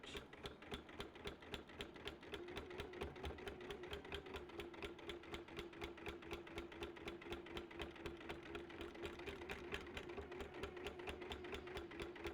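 A sewing machine stitches in the ditch of a quilt in a steady, rapid mechanical rhythm of even ticks over a low motor hum, continuous, close and quiet, no voices.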